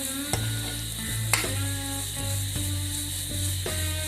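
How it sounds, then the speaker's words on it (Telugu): Paneer curry with cashews and garam masala being stirred in a hot pan: a spoon scrapes the pan again and again at an uneven pace over a steady low hum, close by, with no talking. "కొంచెం గరం మసాలా వేసుకొని దీన్ని మళ్ళీ ఒక 5 మినిట్స్ బాగా మిక్స్ చేసుకోవాలి"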